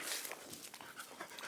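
A dog sitter's dog barks outdoors in a field, giving a dense, continuous run of close, rough yips and panting-like noise for about a second and a half, with no talking.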